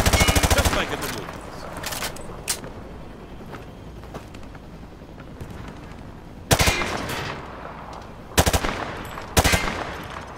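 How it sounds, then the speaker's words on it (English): Bursts of automatic gunfire fired from the hip in Call of Duty Modern Warfare 2, loud rapid volleys at the start and in later bursts, with quieter clatter between. "He sprayed bullets all over the damn place."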